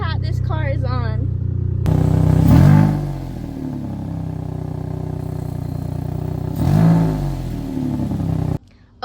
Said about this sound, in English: Chat, I don't know how the frick this car is on right now, but it's a miracle.